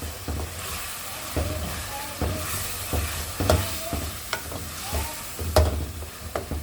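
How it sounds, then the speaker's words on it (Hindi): Chicken and bhindi sizzle and fry in a pan while a spoon scrapes and stirs in repeated strokes, close and moderately loud, with a soft steady hiss underneath. "अब इसकी मैं भुनाई करूँगी।"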